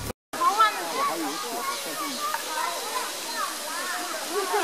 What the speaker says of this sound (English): So we made it to the small waterfall, finally.